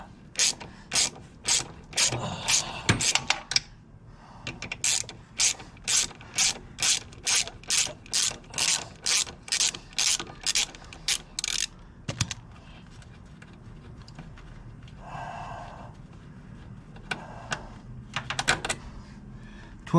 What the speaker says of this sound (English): I'm going to take the shock bolts out.